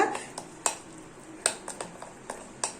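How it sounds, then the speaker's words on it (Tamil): A spoon clinks against a bowl while carrot malpua batter of semolina and milk is mixed. The light taps come irregularly, close and fairly faint, over a quiet background. "இப்போ நல்லாவே மிக்ஸ் பண்ணிக்கிறேன் பாருங்க"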